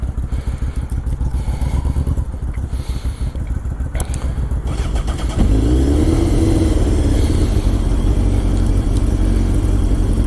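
A motorcycle engine idles with a steady, close mechanical chatter, then rises sharply into a louder, sustained rev that holds to the end.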